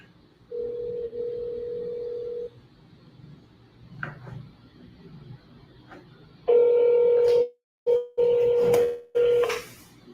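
Touch-tone keypad dialing of a landline number: steady paired phone tones in two runs separated by a quiet gap, the later run broken by a few short pauses and clicks, loud and close with no talking.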